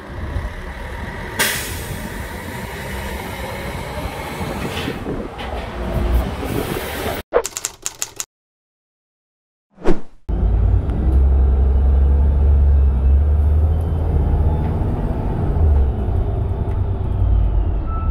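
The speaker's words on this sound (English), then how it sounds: "let's go and check out a Denning low floor from Kangaroo bus lines" Denning Phoenix low floor bus of Kangaroo Bus Lines with a Cummins ISB engine, rumbling and whining through road noise, a brief dropout, then a deep steady engine drone close by, no speech.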